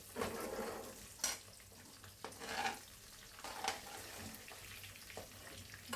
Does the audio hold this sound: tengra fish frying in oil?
yes